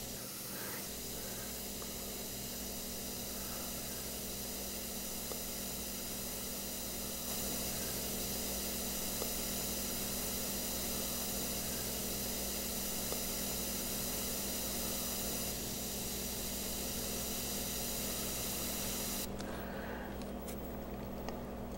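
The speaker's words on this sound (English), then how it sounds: "I am using the same airbrush. It's a gravity feed." Gravity-feed airbrush at about 3 psi air pressure, spraying micro detail work, gives a steady, continuous close hiss with no breaks, holding even for the whole stretch.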